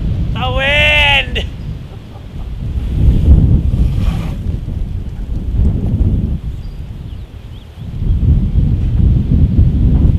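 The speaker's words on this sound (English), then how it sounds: "It's so windy out." Heavy wind buffets the microphone in loud, rumbling low gusts that swell and ease, with a brief high voice near the start.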